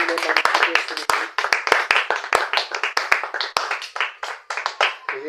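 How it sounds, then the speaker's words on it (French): A church congregation at a revival prayer service claps loudly in praise of the Lord Jesus, a dense burst of many hands with sharp slaps throughout, while voices speak and cheer over it. "On peut applaudir très très fort pour le Seigneur Jésus."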